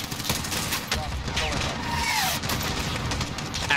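Gunfire in the Modern Warfare campaign, a dense crackle of shots and booms under a busy battle mix with whistling tones, loud and steady throughout.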